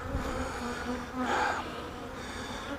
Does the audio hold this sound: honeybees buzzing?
yes